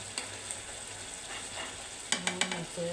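Cumin seeds sizzle in hot oil for a Padma river bagha ayre fish dish, a steady soft hiss with a few quick scraping stirs near the end.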